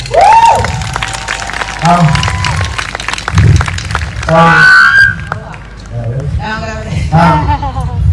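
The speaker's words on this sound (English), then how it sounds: "That deserves a round of applause" Audience applause at an Australia Day event after a brother and sister dance together, scattered clapping and crowd noise under loud talking and other voices.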